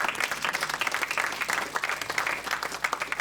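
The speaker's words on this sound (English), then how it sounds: "he really deserves a big round of applause." A crowd at a borough reorganization meeting applauds, giving a steady, dense burst of hand clapping that fills the room at moderate loudness.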